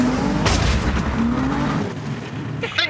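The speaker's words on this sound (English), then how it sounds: "I think we may have just took a tyre off the rim on the 350." At a drift event, a loud roaring engine and grinding tyre noise from the 350 drift car fill the air, with a sharp bang-like burst early on as the tyre comes off the rim.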